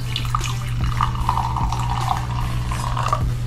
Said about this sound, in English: It's the sparkling watermelon lemonade.